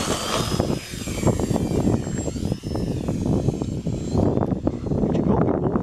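FMS RC Cessna model airplane taking off, its electric motor and propeller giving a steady whine with a rising and falling tone, fairly loud and close throughout, with wind and handling noise underneath.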